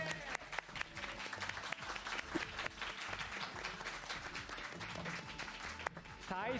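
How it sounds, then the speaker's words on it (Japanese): Spectators at a Melty Blood Type Lumina fighting-game tournament grand final clap to welcome the players, a fairly quiet, continuous patter of many hands running beneath an announcer's voice. "ぜひ拍手でお出迎えください"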